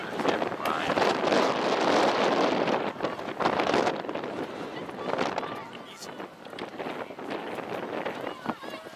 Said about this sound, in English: I'd like it to be like less windy